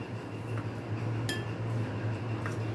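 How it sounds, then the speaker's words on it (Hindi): A spoon clinks a few times against a bowl as powdered sugar goes in for dalgona coffee, with sharp light taps over a faint steady background hum. "मैं ये पिसी हुई चीनी डाल रही हूँ।"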